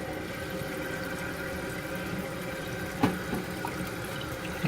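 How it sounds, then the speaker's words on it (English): Tap water running steadily into a 1979 blue porcelain toilet tank, a constant faint gushing wash with one brief knock partway through. "So now I'm just going to turn back on the water and see what else I could do."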